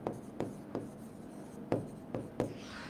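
Pen writing out a short English verb-form answer, heard as a few sharp scratchy strokes in bursts with brief pauses, close and fairly quiet, without any talk.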